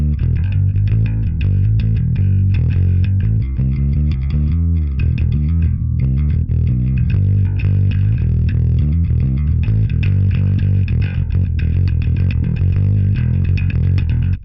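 Bass guitar played through the 'round' preset of a Line 6 POD Express bass effects pedal, a warm, thick, steady tone with continuous riffing notes, loud and alone with no talk.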